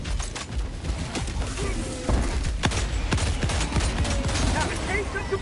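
Rapid sniper rifle shots fired at a Bile Titan in the Helldivers 2 video game, a busy string of sharp cracks over constant battle noise and a loud low rumble.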